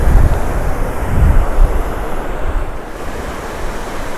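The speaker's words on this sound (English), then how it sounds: "Pretty nice swimming beach here at Fort Clinch State Park" Ocean surf rolling onto the swimming beach at Fort Clinch State Park, a loud broad wash of breaking waves mixed with gusty wind buffeting the microphone.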